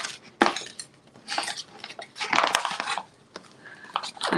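A spoon clinks and scrapes inside a container of Toscana milk paint in the Cote d'Azur colour, with repeated short metallic taps and scoops at close range.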